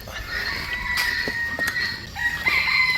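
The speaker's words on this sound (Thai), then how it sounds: "อู้ยนกยุง" Loud, piercing peacock calls ring out amid outdoor bird chatter at a zoo in Ubon, several sharp wailing cries in quick succession.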